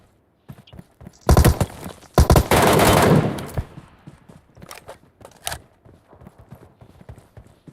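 Bursts of automatic gunfire from a bot in PUBG Mobile Metro Royale, several loud close volleys in the first half followed by scattered fainter shots and footsteps.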